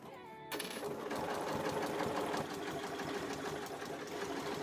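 A sewing machine stitches binding down one side of a quilting design board, starting after a brief quiet moment into a steady rapid mechanical whirr and needle chatter, close and continuous.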